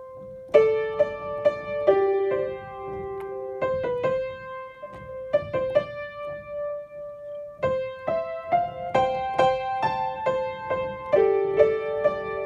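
Left-hand piano part of the verse of a song, played alone: sustained bass notes and chords struck in a slow, slightly uneven rhythm, close and clear with no voices.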